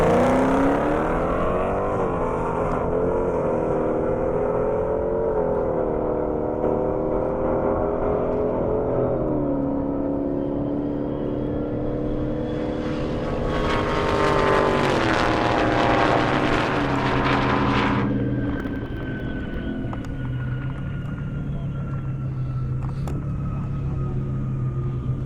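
A Dodge Hellcat and a Ford GT500 race down an airstrip, loud engines rising in pitch through the gears with sharp shift steps, a brief harsh roar midway, then fading toward a distant whine.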